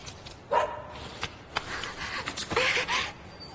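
Fairly close by, a small dog gives a few yips and short barks mixed with whimpering, irregular and moderately loud, with faint background noise between the sounds.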